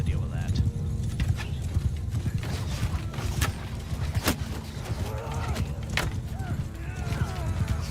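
Horses gallop with a steady clip-clop of hooves among mounted horse archers in a steppe strategy game, a dense continuous rumble with creaks and sharp snaps over it, and a voice talking throughout.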